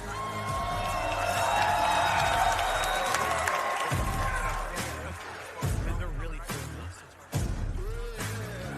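Crowd noise at the East vs West 24 arm wrestling event, Larratt vs Parker prelims: a loud, sustained roar of cheering and clapping rises and holds, then gives way to voices talking amid lingering crowd sound.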